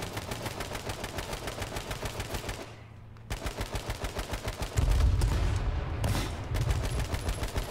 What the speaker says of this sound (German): Wir werden beschossen von direkt vor uns.